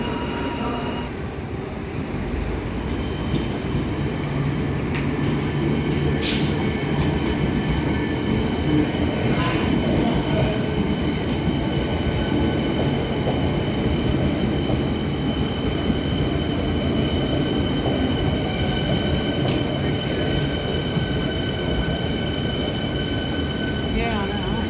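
A train pulls into Flinders Street station in Melbourne on a Friday afternoon, a steady loud rumble of wheels and carriages that carries on throughout with faint squeals, and a public-address announcement can be heard over it.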